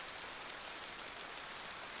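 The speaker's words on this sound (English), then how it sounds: "So I'm going to let the rain stop." Steady rainfall in the video game DayZ, a constant even hiss of drops on surfaces filling the whole short stretch with no voices.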